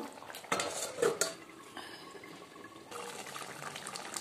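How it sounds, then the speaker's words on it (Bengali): Large eggplant pieces go into a simmering curry in a pot, with a few clanks of utensil against metal, stirring and a soft steady bubbling that continues underneath afterward. "বেগুনগুলো দিয়ে দিচ্ছি, আর বড় বড় করে দিয়েছি যেহেতু, তাই জন্য একটু আগেই দিয়ে দিলাম"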